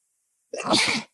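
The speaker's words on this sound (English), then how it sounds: "I got to sneeze" A single sharp sneeze bursts out close by after a moment of silence.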